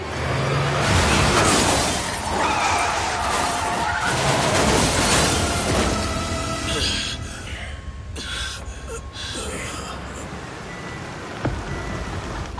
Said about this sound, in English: That black van just ran right into that car!